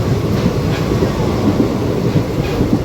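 A train runs through Cherlapalli station without stopping, a loud, close, continuous rumble with rhythmic clickety-clack of wheels on the rails.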